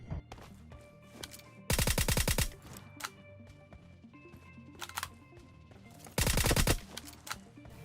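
Gunfire in a video game: scattered single shots and light pops, with two loud rapid automatic bursts, each about three-quarters of a second long, over a steady background game hum.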